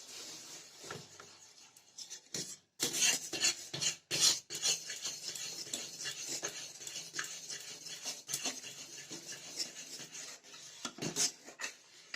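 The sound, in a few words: continuous stirring of milk with powdered milk in pan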